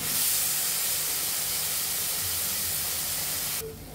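Small shrimp hit hot oil in a pan, producing a loud, continuous hissing sizzle that holds steady for several seconds before cutting off abruptly near the end; no voices.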